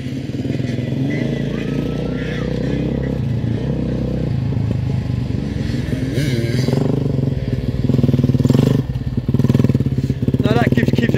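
Motocross dirt bike ridden continuously, a loud buzzing two-stroke engine drone with shifting revs and occasional clatter throughout, a voice talking over it.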